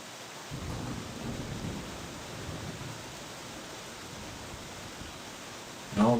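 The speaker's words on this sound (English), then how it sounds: "pissing down the rain." Steady heavy rain pours in the survival video game Escape the Pacific as a dense, constant hiss at even loudness, with a brief louder burst at the very end; no one speaks.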